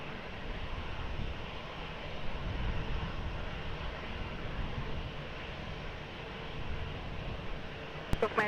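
An airplane takes off from runway 20 at Lisbon Airport. A distant, steady engine roar holds at an even level throughout, with a couple of faint clicks at the very end.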